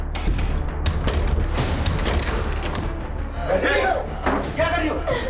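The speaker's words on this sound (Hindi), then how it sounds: "दरवाजा तोड़।" A door is forced in during a tense indoor crime drama scene, heavy thumps and slamming crashes ringing out in quick bursts amid shouting voices and background music.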